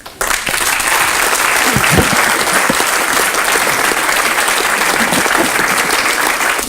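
Loud, sustained audience applause at an association's general assembly breaks out abruptly and holds as a thick, even wash of many hands clapping at close range, without a break.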